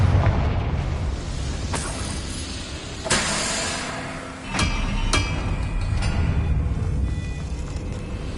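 Fiery Confringo spell explosions in the game Hogwarts Legacy, a series of sharp booms and crackling bursts over a continuous rumbling background of combat noise, with no talking.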